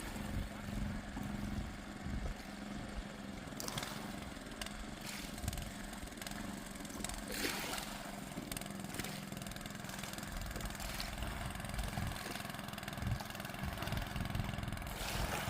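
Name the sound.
boat engine started at Mangla Dam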